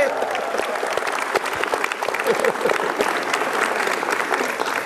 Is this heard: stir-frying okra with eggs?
no